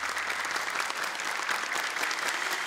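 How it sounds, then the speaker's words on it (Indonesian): Audience applause for six category winners at a televised Quran memorization contest, a steady dense clapping that fills the hall without pause from start to finish. "Tepuk tangan sekali dong untuk ke-6 pemenang kategori."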